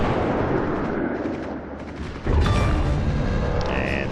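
Destroyer blown up in World of Warships: a dense rumble of naval gunfire gives way to a sudden heavy boom and loud crackling explosion, close and sustained.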